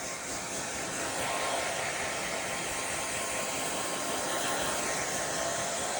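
Blow dryer running on fan only with no heat while drying a dog, giving a steady, loud, continuous rushing hiss close up, with no talking.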